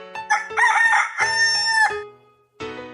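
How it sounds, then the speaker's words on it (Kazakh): A rooster crows loudly and close by, a drawn-out cock-a-doodle-doo with a strained, sustained final note, followed after a short pause by the start of another call. "Әтеш."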